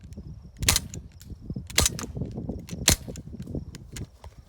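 A Crosman Mako CO2 pistol fires three sharp, evenly spaced pops at a can, each a short crisp crack close by, with quiet handling noise between shots.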